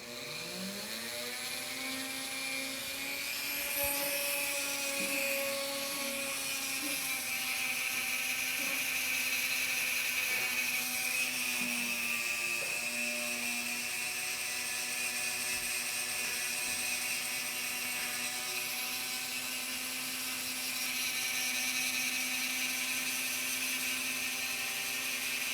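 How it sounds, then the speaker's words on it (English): An old Dremel rotary tool fitted with a shaft attachment spins up and keeps a steady, high, close whine with a buzzing edge, running alone without pause. "then we'll turn our Dremel tool on"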